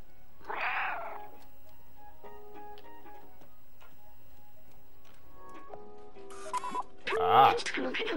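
Cat sounds from the video game Stray: a short meow near the start and a brief rising meow-like cry near the end, with soft game ticks and tones between them and a voice talking.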